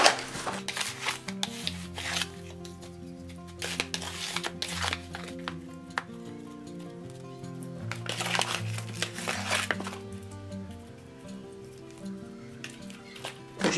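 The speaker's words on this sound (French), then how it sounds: "Je fais rentrer les assaisonnements là où j'ai mis les traits là pour que ça soit bien assaisonné." Hands rub seasoning into scored fresh fish, a soft, close, continuous rubbing and squishing that pulses irregularly, with faint background tones running beneath and no talk.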